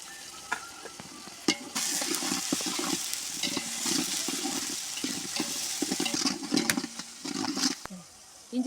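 Ginger and garlic sautéing in a pan for biryani, a steady quiet sizzle with stirring scrapes and clicks throughout, no talking.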